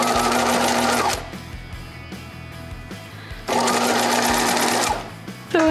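A sewing machine with a double needle stitches fringe onto a top, running in two loud steady bursts with a quieter pause between them.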